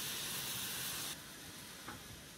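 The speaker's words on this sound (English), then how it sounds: "Heat the sauce over medium heat and bring to a boil." Okonomiyaki sauce heats toward a boil in a frying pan over medium heat on a stove, giving a steady close hiss and light sizzle that drops a little softer partway through, with no talk.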